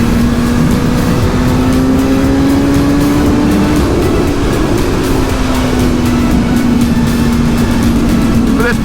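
Engine of a 2021 Suzuki GSX-S 1000 motorcycle pulling hard through the revs while riding, a steady loud drone with a rising then sustained pitch under strong wind noise, with a voice speaking over it.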